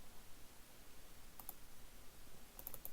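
Computer mouse clicks come as faint, crisp double clicks, one pair near the middle and a quick cluster near the end, over a quiet background hiss.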